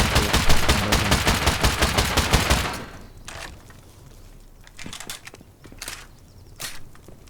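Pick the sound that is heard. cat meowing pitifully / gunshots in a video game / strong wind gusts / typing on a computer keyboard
gunshots in a video game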